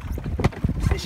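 Oars splash and knock in a rowboat on a lake, with a few short bursts of dipping and pulling over wind noise, close to the microphone.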